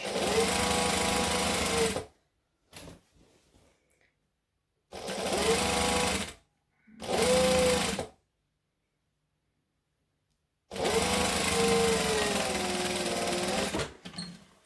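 Sewing machine stitching Christmas tree skirt fabric in three bursts of fast, steady whirring and clatter, separated by short pauses and silences, close and clear with no talking.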